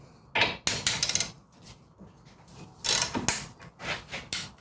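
A ratchet loosens the 18 mm brake caliper bracket bolts on a Chevrolet Equinox, giving close, loud bursts of rapid metallic clicking in several separate strokes with short pauses between them.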